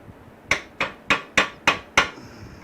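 Six evenly spaced, ringing metal hammer strikes drive at a bent bolt on a vintage Honda motorcycle held in a vise, each blow sharp and close with a short decay.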